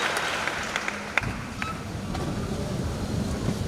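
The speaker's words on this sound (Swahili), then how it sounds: "Nipige makofi mengi sana." Moderately quiet applause from a business conference audience, a steady patter of many hands with a few sharp individual claps standing out, continuing evenly throughout.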